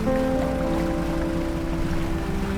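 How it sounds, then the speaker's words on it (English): A grotesque arterial boat engine in the fishing game DREDGE, its bony blades driven by a pulsing heart, runs as a steady, loud hum with tonal drones over a continuous watery wash, with no talking. "the bony blades of this grotesque engine are driven by a pulsing heart"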